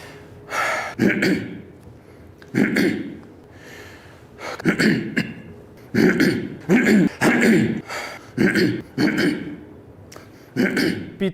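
A voice clears its throat in a series of short, close, raspy bursts with gasps and brief pauses between them.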